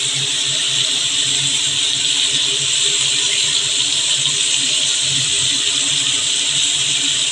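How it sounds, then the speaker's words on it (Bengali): Jackfruit pieces frying in oil with salt and turmeric give off a steady, loud, continuous sizzle and hiss that stays even throughout without pauses. "ইঁচড়গুলো একটু ভেজে নেব।"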